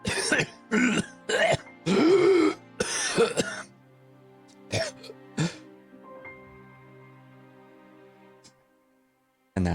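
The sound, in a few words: voice imitating a character choking and coughing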